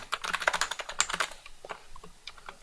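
A computer keyboard clatters nearby as keys are pressed, including Ctrl+C and Ctrl+V, in a quick dense burst of clicks that thins to a few scattered taps, with no talk.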